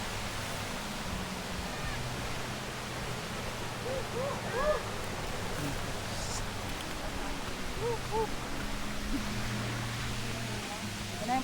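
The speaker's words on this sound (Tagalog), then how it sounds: "Naririnig ko na ang agos ng tubig." Steady broadband rush of water at Capistrano Falls, a continuous even wash heard throughout, with occasional short voices and birdlike chirps over it.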